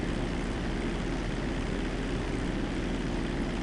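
A propeller airplane drones steadily and loudly in GTA V, its engine a constant close rumble with no breaks or voices.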